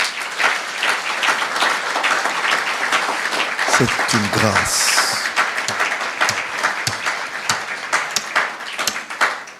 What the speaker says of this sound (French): Est-ce que quelqu'un peut applaudir pour Jésus?